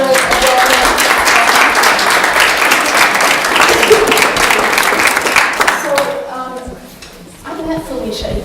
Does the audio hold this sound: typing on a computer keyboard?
no